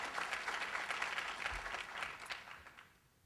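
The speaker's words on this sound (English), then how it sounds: "let's give CUNY a round of applause" Audience applause at a jobs-creation speech, a steady burst of many hands clapping that fades out over a few seconds, with no voices over it.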